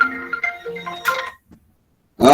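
A phone rings with an incoming-call ringtone, a bright melodic run of tones up close that stops, goes quiet, then a loud burst returns at the end.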